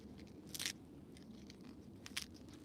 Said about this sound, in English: You hear how crunchy those leaves are?